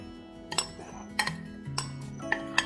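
A spoon scrapes and clinks against a metal pan while milk and ice cream powder are mixed, giving a few sharp clinks spaced about half a second apart over a soft, steady stirring swish.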